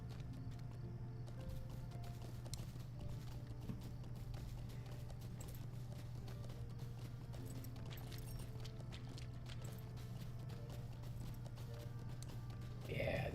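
Horse hooves clip-clop in the Lord of the Rings Online game at night by a lake, a steady trotting rhythm running the whole time over a constant low hum of game ambience and music.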